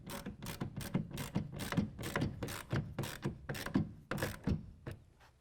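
A 1/2 inch ratchet tightening a tonneau cover clamp on the bed rail of a 2017 Ford Raptor, a close run of about a dozen quick metallic clicking strokes in an uneven rhythm, with no talk.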